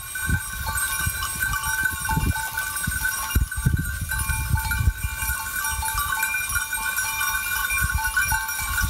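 A herd of goats grazes on dry pasture with cowbells clanking continuously in a bright, irregular jangle. Soft bleats and rustling move close by.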